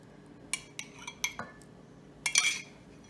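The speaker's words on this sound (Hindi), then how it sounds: "मैं ये हाथ से थोड़ा मिक्स कर लूँ।" Chocolate cookie dough is worked by hand in a bowl with coffee added, heard as a few sharp clinks and scrapes of a spoon against the dish, spaced out over quiet, ending in a brief louder flurry.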